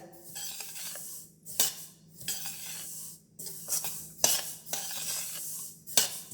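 Black sesame seeds dry-roasting in a pan are stirred with a metal spoon, giving quiet scraping passes and a few sharp clinks against the pan in irregular bursts, close by, with no talking.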